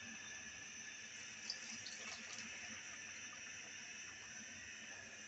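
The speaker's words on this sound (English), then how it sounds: "I'm going to be adding more water now." Water pours steadily into a pot of rice and beans, a continuous soft hiss and splash that stays even and fairly faint throughout, with no talking.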